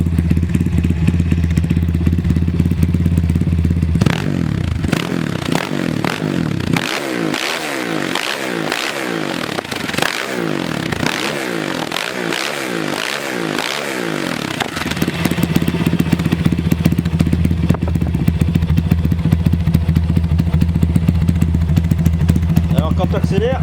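A motorcycle engine with a newly replaced CDI unit revs in a run of sharp, rising bursts in the middle, then settles back to a steady idle, heard up close with no talk over it.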